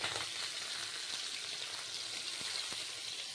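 Small fish, chara pona, frying in hot oil, a steady dense sizzle with scattered crackles and pops throughout, close and continuous with no talking.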